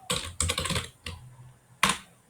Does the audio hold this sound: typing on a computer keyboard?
yes